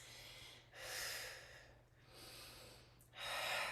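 Deep breathing during a chair-based strength exercise: three long, slow breaths come through close, soft and airy, each rising and fading over a low steady background hum.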